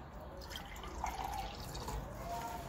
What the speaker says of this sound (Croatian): Sada ću sipati vodu u čašu.